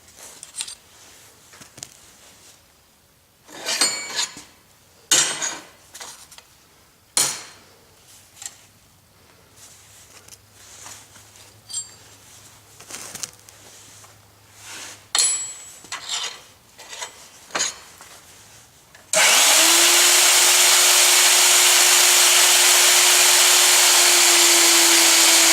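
Work on a small metal stamp holder: a long stretch of uneven close rasping and scraping strokes, then a loud power tool starts and whines steadily through the end while the piece is trimmed.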